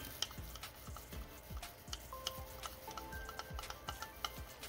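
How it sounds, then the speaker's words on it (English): A homemade lip gloss mixture being stirred in a small container, heard as faint, close, evenly spaced clicking taps in a quiet room. "I'm going to stir that up."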